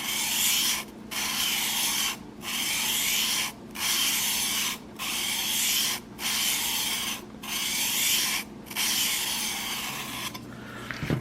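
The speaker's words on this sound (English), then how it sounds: "You sharpen both sides of the blade with each grit." A knife blade sharpened with strokes across a sharpening stone grit: steady, close abrasive rubbing strokes, about eight long passes separated by short pauses, loud and alone with no talking.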